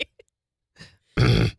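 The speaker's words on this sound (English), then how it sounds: "needs to clear her throat" A woman clears her throat in one short, rough burst near the end, preceded by faint small mouth noises and quiet in a radio studio.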